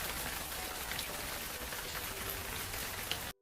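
Steady, dense rain pours down in a film scene, a continuous even hiss with no other sounds, then cuts off abruptly at the end.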